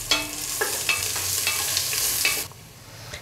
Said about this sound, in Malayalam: 2 സവാള അരിഞ്ഞിട്ട് ഫ്രൈ ചെയ്തെടുക്കാം